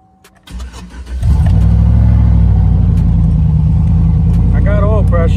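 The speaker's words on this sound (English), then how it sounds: "I'm gonna go ahead and start this truck up" A 2007–2013 Chevrolet Silverado with a 5.3L V8 cranks briefly, then catches and settles into a loud, steady idle close by, with a faint voice briefly audible near the end.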